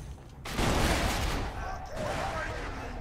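Gunfire in the video game Borderlands 2, a burst of rapid shots erupting after a short pause, then continued rattling fire and mechanical clatter, loud and close, with players talking over it.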